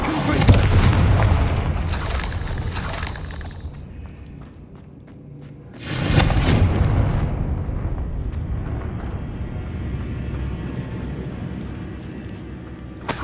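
A Confringo spell from Hogwarts Legacy goes off as two booming blasts, the first at the start and the second about six seconds in, each followed by a rumbling tail over a low game background.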